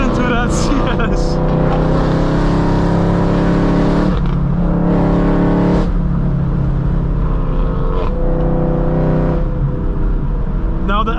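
A BMW E92 M3 drives on Mulholland Highway, its engine droning loudly up close through repeated revs and gear changes, with someone talking over the engine sound.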